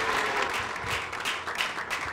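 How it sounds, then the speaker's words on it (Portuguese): An audience at an evening show applauds, a brief burst of clapping from a crowd in a room, moderately loud and with no talk over it. "Aplausos para o Joaquim."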